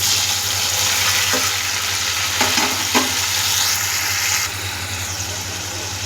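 Onions, tomatoes and green chillies fry in oil with a bay leaf for a goat trotters curry, producing a loud, continuous sizzle with a few spoon scrapes as the mixture is stirred.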